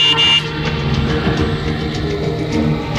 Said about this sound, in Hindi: अरे तो हॉर्न बजाओ ना।